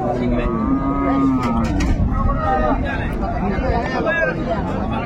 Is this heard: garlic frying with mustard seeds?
no